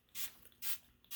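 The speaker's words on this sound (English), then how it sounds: "really spray inside that barrel a bunch" Three short hissing bursts of rim oil sprayed into the barrel of a flintlock, each about a tenth of a second and evenly spaced, close and fairly loud with quiet gaps between.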